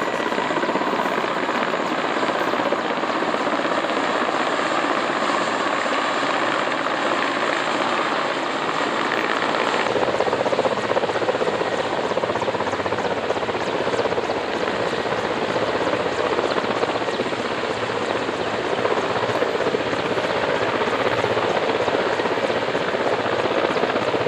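A helicopter flies over an icy flood at night, its steady, dense rotor roar filling the whole stretch without a break and holding loud and close throughout.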